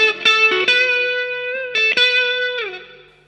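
An electric guitar plays a short phrase from a solo with sustained, effected notes. It ends on a wide two-and-a-half-step string bend that slides and then fades out, played alone and up close.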